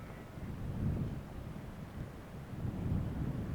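Wind blowing across an outdoor golf course, a low rumbling buffet against the microphone that swells and eases in gusts, steady and fairly faint with no voices.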